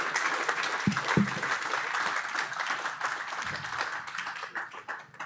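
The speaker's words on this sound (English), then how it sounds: "Let's give him some wild applause" An audience at a morning show with teams and officials applauds Dr. Don Becker, a dense wash of many hands clapping that holds steady, then thins and fades at the end.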